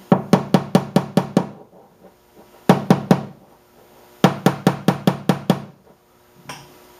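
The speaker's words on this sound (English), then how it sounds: "Try to knock them down a little as I go." Sharp metal-on-metal hammer taps knocking down high spots on a Subaru car body panel after stud pulling, struck in three quick bursts of about six blows each, close and loud with short pauses between.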